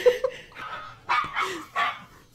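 A dog barks in a few sharp, close bursts with some whiny yips mixed in, loud against a quiet indoor background.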